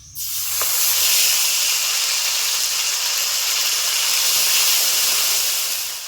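Dried red chillies and nigella seeds drop into hot oil, starting a sudden loud hiss that holds as a steady, close sizzle for several seconds.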